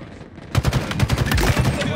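Heavy sustained automatic gunfire from a Halo Infinite multiplayer match kicks in abruptly after a quiet half-second. It becomes a loud, rapid, continuous barrage that is close-up and dense.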